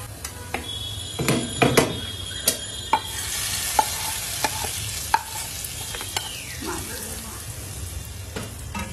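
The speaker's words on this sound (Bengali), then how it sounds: "এই যে একটু বাগার দিয়ে দিল পেঁয়াজ দিয়ে।" Cumin powder and browning onions are tempered in a pan for a coconut-milk curry, giving a steady sizzle broken by irregular clinks and scrapes of stirring.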